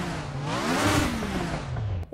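1995 Mercedes DTM race car engine in the Raceroom sim revving up and falling back, a loud rising-and-falling mechanical tone passing in a single sweep before a sudden cutoff, no talk.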